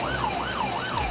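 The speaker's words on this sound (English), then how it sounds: "police who were chasing him with their sirens and lights on" A wailing police car siren sweeps steadily up and down in pitch during a chase, loud and continuous over faint road noise.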